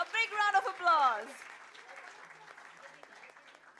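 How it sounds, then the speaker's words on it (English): Soft audience applause continues behind a voice that speaks loudly at first and then drops away, leaving a light, distant patter of clapping at a live event. "A big round of applause"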